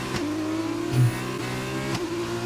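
Race car engines drone and rev as cars overtake at Sakhir in a racing video game. The engine tone is steady and shifts in pitch, with a brief louder surge near the middle.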